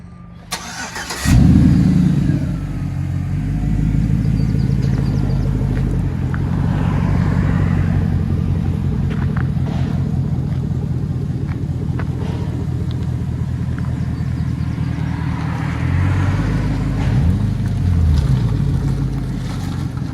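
A 2007 Chevy Silverado pickup engine starts with a sharp catch, then settles into a loud, steady idle rumble close by that holds evenly throughout, with a slight rise near the end.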